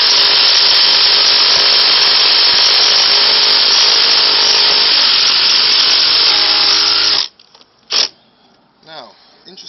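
A Makita 6935FD impact driver sinks 4-inch screws into wood with a loud, continuous hammering buzz that lasts about seven seconds, then stops abruptly, followed by a few faint clicks and handling noises.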